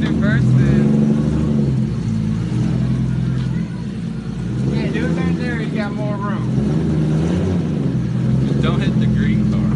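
Turbocharged car engine revving hard and accelerating, a loud, continuous droning roar that surges in pitch, with people talking over it.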